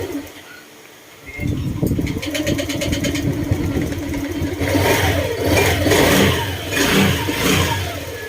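A Honda Airblade 150 scooter engine that had stalled cranks and catches at about one second, then runs at a steady mid-pitched idle with a couple of light revs, loud and close.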